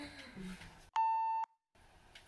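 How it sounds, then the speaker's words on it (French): A single sustained censor beep, a pure tone lasting about half a second, cuts in between stretches of quiet talk. "je vais juste mettre bip à tous les noms qu'on dit"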